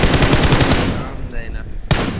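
Rapid machine-gun fire in a shooting video game, a quick burst of close, loud shots for about a second, then quieter game sounds and a single sharp shot near the end.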